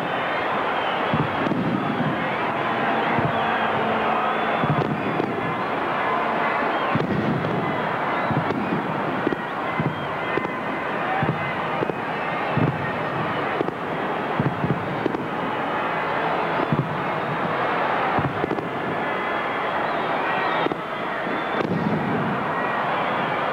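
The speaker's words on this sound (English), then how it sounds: "And now the fireworks presented by Foster's in the traditional black and red colours of Essendon." A fireworks display opens the 1985 VFL Grand Final at VFL Park, Hawthorn against Essendon, with repeated booming bursts and crackles over a constant roar of a large outdoor crowd for over twenty seconds.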